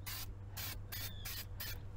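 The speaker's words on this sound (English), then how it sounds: "slowly start spraying it on" Fluid Film undercoating sprays from an aerosol can onto a vehicle frame in five short, sharp hissing bursts with brief pauses between them, close and fairly quiet.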